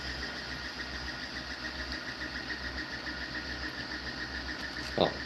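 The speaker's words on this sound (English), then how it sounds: "I just wanted to capture the last few moments of printing." A 3D printer finishing a rocket motor-holder part, humming steadily with a faint mechanical whir and low motor drone, quiet and constant, ending with one short sharp click or tap.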